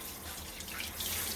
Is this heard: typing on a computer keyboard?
no